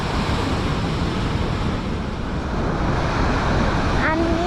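Stormy sea surf rolling onto a beach in a strong storm, a loud continuous roar of waves mixed with gusting wind buffeting the microphone, with a faint voice near the end.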